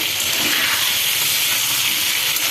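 Chopped tomato hits a pan of fried eggplant and potato and sizzles in a loud, steady hiss that fills the whole moment without a break.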